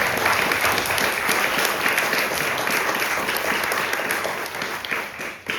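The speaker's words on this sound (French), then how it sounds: "On peut les applaudir." Conference audience applauding together in a hall, a dense, steady wash of clapping that holds strong throughout and begins fading right at the end.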